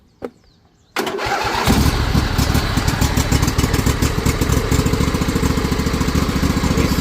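A Craftsman riding mower's 21 hp Briggs & Stratton Intek engine cranks briefly, then catches and settles into a loud, steady running idle with a rough, pulsing exhaust beat, close up and with no talking.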